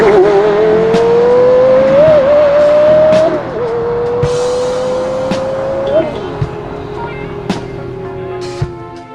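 A high-performance sports car engine accelerates hard, its loud, close roar climbing in pitch. It drops briefly at two gear shifts, then keeps pulling at a steady high rev.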